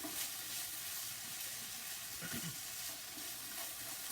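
Onions cooking in a pan give a soft, continuous frying hiss with faint scraping, heard alone at low volume.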